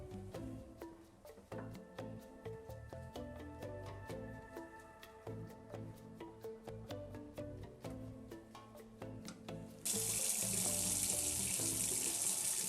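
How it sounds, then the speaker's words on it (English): A household hot and cold mixer tap runs steadily after its mains supply is turned back on, a continuous gush over a faint tonal hum, swelling suddenly louder and brighter near the end. "turn on the mains hot and cold water for your tap"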